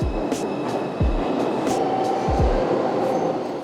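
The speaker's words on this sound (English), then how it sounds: "So we're just in the subway car, stopped" Inside a stopped New York City 2 train subway car bound for Flatbush Avenue in Brooklyn, with a steady mechanical hum and low thumps and clanks at regular intervals, heard close and without talk.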